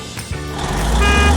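A road grader idles with a loud low engine drone that builds steadily, while a steady tonal beep rings through it, close and continuous over a short stretch.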